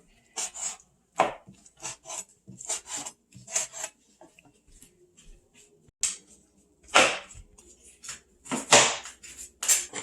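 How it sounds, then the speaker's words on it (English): Meat, including bone, being chopped into small cubes for a chicken stir-fry, sharp knife strikes on a cutting board in uneven bursts and single chops, close and loud against quiet pauses. "I was chopping some meat into small little cubes"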